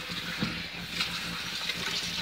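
Hot water runs from a household tap in a steady, moderately faint hiss and splash, continuous with small surges, no talking over it.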